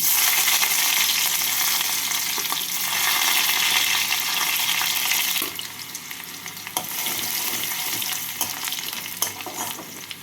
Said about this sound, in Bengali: হালকা করে ভেজে নেব এখানে আমি নিয়েছি দশ কোয়া রসুন কুচি প্রথমে রসুন কুচিটাকে দিয়ে দিচ্ছি